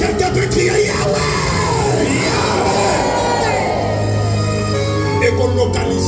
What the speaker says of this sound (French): Est-ce que quelqu'un peut crier Yahweh?